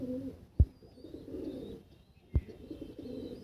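A Giribaz pigeon coos softly nearby in low, rolling murmurs that repeat in short bursts, broken by two sharp knocks, with no talk over it.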